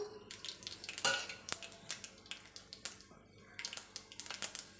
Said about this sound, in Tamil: இப்போ நம்ம கடுகும் வெந்தயம் கொஞ்சம் எடுத்துருக்கோம் அதை போட்டு தாளிச்சிக்கலாம்